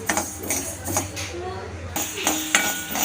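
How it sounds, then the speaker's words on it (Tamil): Pearl millet dry-roasts in a kadai over medium heat, stirred with a metal spoon, giving close scraping strokes and light clinks against the pan, with a faint low hum underneath. "மிதமான சூட்லேயும் வச்சுட்டு கம்பை வந்து நம்ம நல்லா வறுத்துக்க போகிறோம்"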